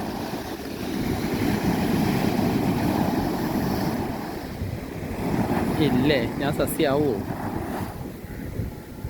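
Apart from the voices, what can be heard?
sea waves on the shore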